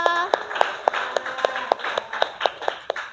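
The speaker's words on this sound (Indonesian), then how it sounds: "beri aplaus untuk teman kita" A small group of classmates claps for a fellow student in a classroom, giving about a dozen sharp, evenly spaced claps over a few seconds, close by and alone.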